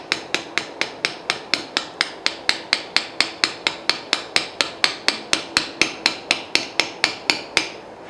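A hammer drives a chisel into stone in a steady, even rhythm of sharp metallic strikes, about four per second, close and clear with nothing else heard.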